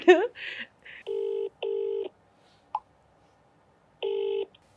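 A few rapid phone keypad tones, then three longer two-tone beeps and a click, with a short burst of voice at the start.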